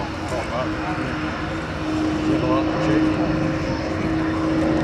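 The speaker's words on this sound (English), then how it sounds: "the aircraft rolling round the pair, they're flying in mirror formation" Royal Jordanian Falcons propeller aerobatic planes fly a barrel roll and mirror formation at an airshow. A steady, moderately distant engine drone holds throughout, with a commentator talking over it.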